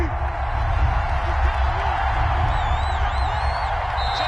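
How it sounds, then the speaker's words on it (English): Dense, steady roar of a football stadium crowd cheering and whooping, loud and sustained with faint whistling tones above it. "this crowd's going to get even louder"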